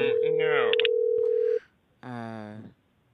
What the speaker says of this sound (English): You get to hear phone ring.